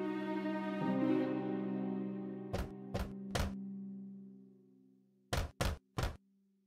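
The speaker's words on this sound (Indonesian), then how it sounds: "dan mengetuk pintunya." Knocking on a cottage door in a told story: three sharp knocks, a pause, then three more, clear and close over a soft sustained musical background.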